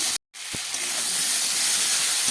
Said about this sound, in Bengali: এবার একটু ভেজে নিই।